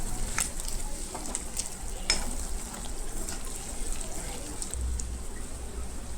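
Chicken fry cooking in a pan with coconut powder and sesame powder stirred in, a low crackling sizzle like light rain, with faint occasional ticks of a spoon against the pan.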